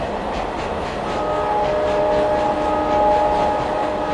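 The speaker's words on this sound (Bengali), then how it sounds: "ট্রেনের ঝমঝম শব্দে বড্ড অস্বস্তি হলো" A night express train rumbles steadily along the tracks at high speed with a rhythmic clatter, loud and close, as if heard from inside a carriage.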